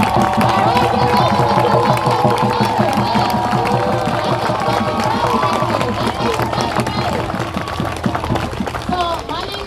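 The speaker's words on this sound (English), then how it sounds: "Go ahead, give a round of applause. This is a celebration." At an outdoor protest rally in Seattle a crowd claps and cheers continuously amid hubbub and scattered voices, loud and close for the whole stretch.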